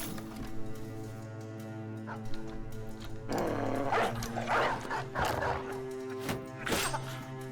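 A Hound Master's dog in a video game gives several short barks and yips in quick bursts over a sustained musical background, fairly loud and close.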